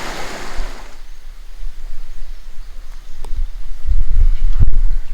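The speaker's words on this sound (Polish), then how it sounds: "wodospad ładny" Steady rushing water from a mountain waterfall beside a trail in the Beskids near Lysá hora, a broad continuous roar that swells louder toward the end with a few low thumps, no voices.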